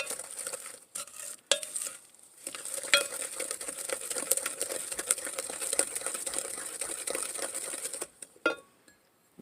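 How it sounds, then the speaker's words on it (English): Eggs and sugar being whisked together in a bowl for gluten-free chocolate chip cookie dough, a steady close scraping and tapping of utensil against bowl that runs continuously for about eight seconds before stopping. "I'm going to mix up these 2 items first because we really want to make sure we don't end up with any kind of scrambled eggs"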